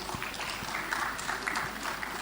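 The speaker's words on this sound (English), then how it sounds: "let's celebrate with an applause to all the 4 champions" An audience at the Bengaluru Skills Summit 2025 claps for four skills competition champions, a steady, dense wash of applause that fills the whole moment.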